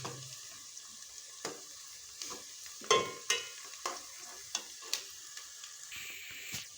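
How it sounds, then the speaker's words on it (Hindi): Onions sizzle steadily in a hot pan as they brown for vegetable pulao, with occasional sharp clicks and scrapes of a utensil stirring through them. "रेड होने शुरू हो गए हैं ये प्याज, देखें कितने ज़बरदस्त भूनना शुरू हो गए हैं"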